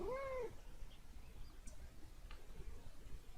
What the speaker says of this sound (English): You may or may not hear my cat being very angry about something, a little upset.